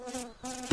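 Mosquitoes whine close to the ear, a thin high buzz that fades, returns after a short gap and ends in a soft thump.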